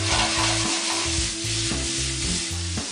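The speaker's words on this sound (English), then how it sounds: "2 to 3 minutes into this cooking process, you can give them a little shake to make sure that they caramelize on all sides" Asparagus spears sizzle loudly and steadily in a frying pan, caramelizing, with a few rattling shakes of the pan breaking up the continuous hiss.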